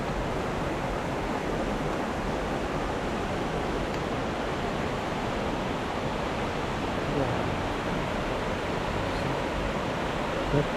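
Water of the Pulunan River rushing steadily, a broad, even roar of flowing current heard close and loud, unchanging throughout with no voices over it.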